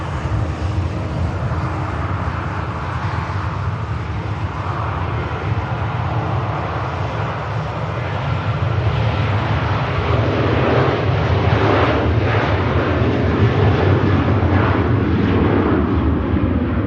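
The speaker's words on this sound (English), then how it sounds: "And the Jet 2 about to taxi past us while the Ryanair departs." A Ryanair jet roars as it departs Manchester Airport while a Jet2 airliner taxis close by, a long, loud, rumbling engine wash that builds and swells over several seconds without any voices.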